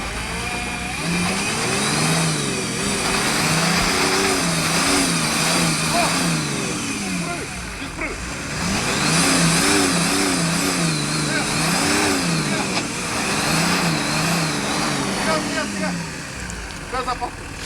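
An off-road car engine revving hard on a trail near Varna, loud rising and falling surges of throttle repeated over several cycles with brief dips near idle, while people talk over it.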